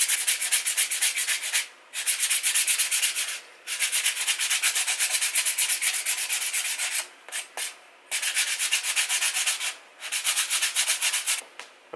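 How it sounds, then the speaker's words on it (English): A jerkbait fishing lure being sanded by hand with 220 grit sandpaper, a close, loud rhythmic scratchy rubbing in quick strokes, broken by short pauses. "I'm going to now use some 220 grit"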